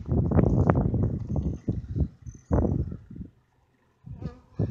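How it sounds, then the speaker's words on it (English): A honeybee swarm buzzing close around a brood box just after a swarm capture, loud surging hums that swell and fade in bursts as bees fly past, with a brief quiet gap near the end. "and tons of bees out here"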